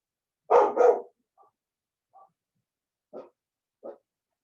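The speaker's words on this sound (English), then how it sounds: "to calm down my dogs." Indoor dogs bark, starting with two quick loud barks followed by several softer, scattered yips and barks in otherwise quiet surroundings.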